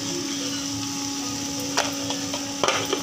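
A spoon stirs dried fish curry with kokum in a pan over a steady sizzle, with a few sharp scrapes and clinks near the end and a constant kitchen hum underneath.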